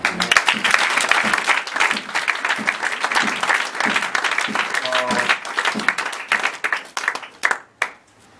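A church congregation claps loudly for visiting pastors and evangelists. The dense applause runs under brief voices and tapers off near the end.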